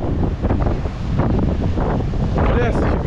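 Large storm-surge ocean waves crash at Praia Grande beach in Arraial do Cabo, Rio de Janeiro, making a heavy, surging roar mixed with gusty wind buffeting the microphone, and a voice is heard briefly near the end.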